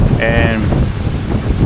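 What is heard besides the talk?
strong wind at the beach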